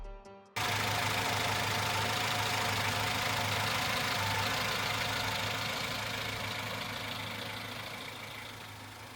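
A Yamaha F80B outboard boat motor starts and runs steadily at idle, a loud continuous drone with a faint knocking beat that eases slightly over time, no voices.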